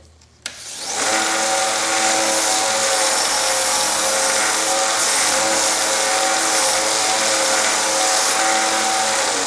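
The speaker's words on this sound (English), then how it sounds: "what this does is this cleans your sanding wheel" A loud sanding machine whirs steadily after starting up as crepe rubber cleans grit from its sanding wheel, a continuous mechanical drone with a harsh grinding edge throughout.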